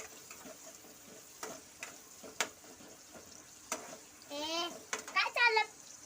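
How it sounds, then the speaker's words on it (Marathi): Onion fries in a pan with a soft, close sizzle and occasional stirring ticks, while a voice and other talk rise briefly near the end. "तर बघा कांदा आता टाकला अक्षरान आता काल कांदा लाळ होईपर्यंत भाजून घ्यायचं आहे"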